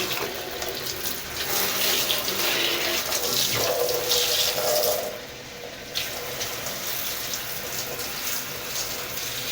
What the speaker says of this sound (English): You can use this hose of washing machine to put water inside like this one.